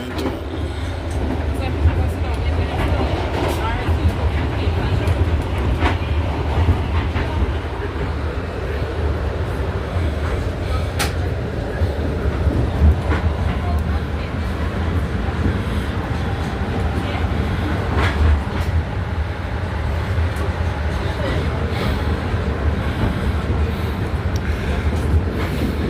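Metro-North commuter train heading to Manhattan, a continuous low rumble and rattle of the rail car from inside, with people talking over it.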